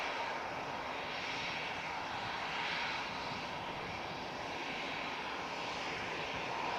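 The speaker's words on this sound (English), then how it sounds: "So, got this EasyJet about to enter." An EasyJet airliner's engines roar at Manchester Airport, a steady, broad and fairly distant jet rumble that holds evenly throughout with no voices.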